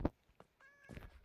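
A cat in the video game Minecraft gives a short, faint meow, with a few soft clicks around it in an otherwise quiet moment.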